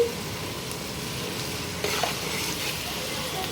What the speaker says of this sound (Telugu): ఉల్లిపాయ ముక్కలు పచ్చిమిర్చి అయితే ముందు ఫ్రై చేసుకుంటున్నాను